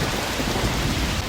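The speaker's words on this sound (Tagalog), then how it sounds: "ayan na. Umuulan na." Steady rain pours in a dense, continuous hiss with low rumbling thunder beneath it, a cartoon sound effect for a rainy-season scene in a Filipino animation, constant and fairly loud throughout.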